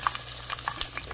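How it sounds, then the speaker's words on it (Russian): Meat seasoned with paprika pan-frying in oil until golden, a low steady sizzle with light crackles and a couple of sharper spatters over a faint background hum. "обжаривать ее до золотистой корочки"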